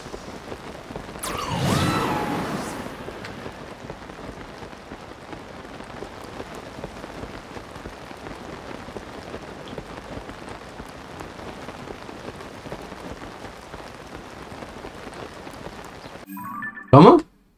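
Constant pattering rain falls in Zelda: Tears of the Kingdom, a steady even hiss throughout, with a voice speaking briefly near the start and a short sharp sound at the very end.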